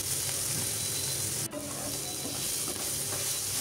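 Onions frying with salt in a pan, a steady loud sizzle with scraping stir strokes throughout, and one brief dip in the hiss midway as the spoon turns them.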